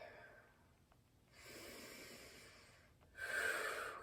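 A slow, deep breath during a qi gong exercise, heard as soft airy inhale and exhale swells that rise and fall over a few seconds, close and quiet against a hushed room.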